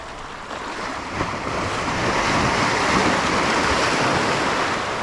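Ocean waves washing against a rock jetty at Half Moon Bay near high tide, a steady broad rushing surf with some wind noise, fairly close and continuous with no voices.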